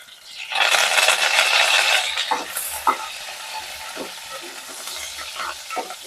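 Curry leaves hitting hot oil in a pan while a Nellore-style small fish curry base fries, giving a bright sizzle that swells then eases, with occasional utensil knocks and stirring.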